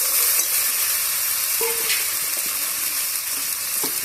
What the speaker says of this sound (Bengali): এবার মশলাটা ভালো করে কষিয়ে নেব।